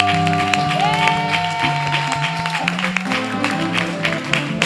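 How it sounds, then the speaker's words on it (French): A church congregation claps for Jesus during a Sunday service in Chartres, steady applause running under sustained organ or keyboard chords and singing voices. "Acclame encore, acclame encore."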